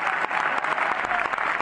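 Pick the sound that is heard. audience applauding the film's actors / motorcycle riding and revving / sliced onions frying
audience applauding the film's actors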